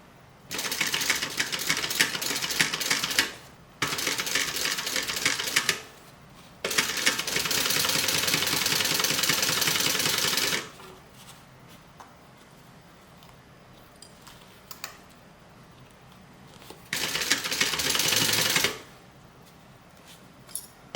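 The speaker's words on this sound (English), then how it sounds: "now we're going to stitch straight across the top" A sewing machine stitches a straight seam with a 1/2 inch allowance across the top of a pocket lining. Several loud, steady bursts of motor and needle chatter are separated by quiet pauses, and there is no talk.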